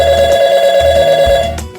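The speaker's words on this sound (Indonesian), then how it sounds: "Bentar. Saya angkat telepon dulu ya." A telephone rings with a loud, steady electronic tone that pulses continuously before cutting off abruptly near the end.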